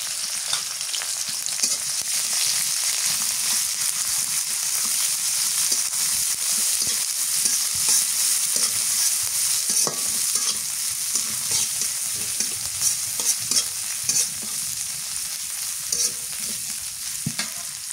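Chopped onions and green chilies fry in hot oil in a pan, giving a steady, loud sizzle throughout with scattered stirring scrapes and crackles, and no voices.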